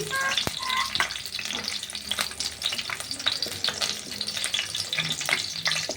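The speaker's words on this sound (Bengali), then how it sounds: "এই তেলটা গরম হয়ে গেছে মোটামুটি। এই প্রথমে পেঁয়াজগুলো ভেজে নেব।" Sliced onions crackle and sizzle steadily in hot oil for a Bengali banana flower and prawn dish, a dense, close frying hiss with occasional pops and no talking.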